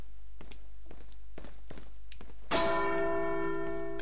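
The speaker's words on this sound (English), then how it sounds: "Can I get Ash to ring one of these bells as well?" Footsteps tap across a floor, then a church bell in Resident Evil 4 strikes once loudly and rings on with a long sustained hum.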